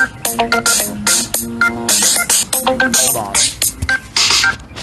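Rapid telephone keypad dialing tones beep in quick uneven bursts, loud and close, with a brief spoken phrase among them.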